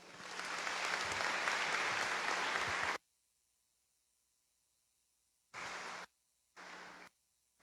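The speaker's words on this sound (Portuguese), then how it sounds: "A todos vamos dar uma salva de palmas." A church congregation at a Mass welcoming a Cardinal gives a brief burst of dense applause, a hissing wash of many hands that cuts off abruptly into silence, followed by two short noisy bursts.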